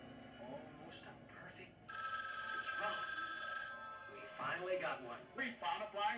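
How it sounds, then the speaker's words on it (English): A telephone bell rings in a steady sustained burst under ongoing conversation from several people, with talk continuing around and after the ring. "Oh, Lindsay, get the phone."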